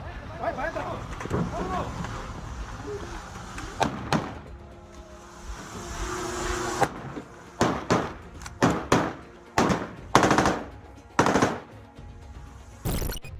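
Bursts of semi-automatic gunfire in a street shootout in Celaya, Mexico, with several loud, sharp shots and short volleys spaced irregularly over the second half, following earlier shouting and commotion.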